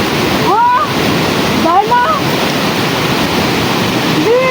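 A river stream near Gurje waterfall outside Kathmandu, rushing as a loud, continuous broadband wash close by, while voices briefly talk over the flowing water.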